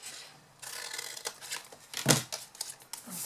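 Scissors snipping paper wedges for a craft treat box, soft rustling and handling with one sharp crisp snip near the middle and fainter cuts around it, close and quiet, no talk.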